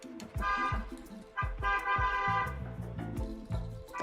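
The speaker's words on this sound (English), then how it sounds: "Oh my god, they're still honking." Car horns honk outside in a string of short toots and longer blasts, several overlapping, heard from a distance through a room.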